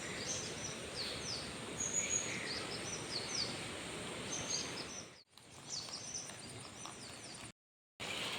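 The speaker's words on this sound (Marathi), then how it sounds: "सकाळ सकाळी सर टेरेसवर येले त्याच्यामुळे ना पक्ष्यांचं किलबिलाट" Birds chirp and call through the morning on a home terrace in rural Konkan, a thin layer of high calls over steady outdoor noise, briefly cut off twice.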